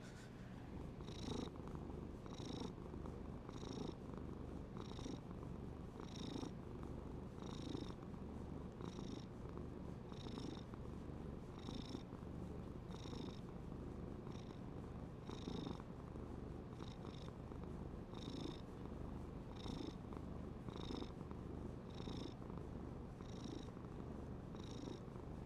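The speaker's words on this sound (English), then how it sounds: "cat purrs." A domestic cat purrs close up, a steady rhythmic rumble with regular inhale-exhale pulses repeating about every second, alone with no talking.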